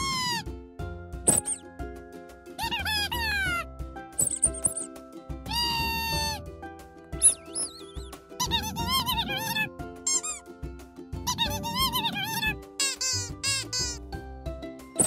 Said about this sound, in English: You can press it to make your duck squeak.